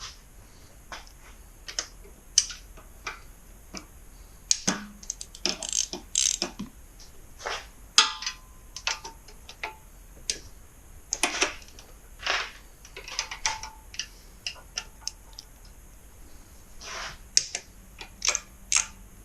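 Ratcheting wrench clicks while loosening bolts on a Kawasaki Z125 Pro side cover, rapid bursts of mechanical clicking with pauses between, close and fairly quiet in a garage.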